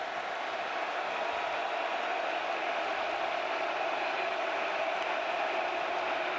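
A packed Ohio State football stadium crowd roars during a Michigan–Ohio State college game, a loud, unbroken wash of noise holding level from start to finish with no talk.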